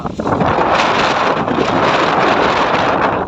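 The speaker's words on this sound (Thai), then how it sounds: "ลมแรงมากเลยครับ" A strong gale roars steadily and loudly across the microphone, a dense unbroken rush of wind buffeting throughout with no voices.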